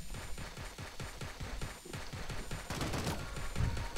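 Rapid bursts of gunfire from shooting at enemies in the Sausage Man battle royale game, a steady rattling run of shots with a heavier blast near the end, no talk.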